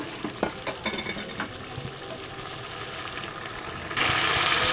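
A rohu fish curry with drumsticks being sautéed in an oiled pan after a splash of water, giving a steady sizzle under intermittent scraping stirs, and the sizzle grows louder and brighter near the end.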